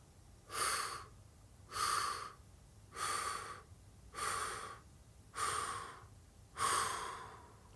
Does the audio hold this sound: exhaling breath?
yes